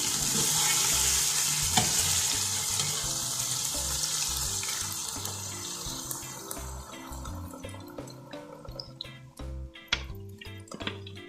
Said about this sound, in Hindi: अब हम इसको भूनेंगे तब तक जब तक ये ग्रेवी थोड़ी गाढ़ी हो जाए।